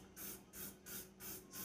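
Mint-scented air freshener sprayed indoors in four quick bursts with short gaps between them, each a close, sharp hiss.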